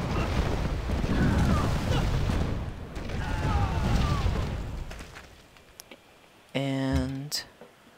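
Unit bombardment firing in Civilization 5, heard as a series of deep booming blasts and rumbling explosions over several seconds, followed by a short sharp tonal effect near the end.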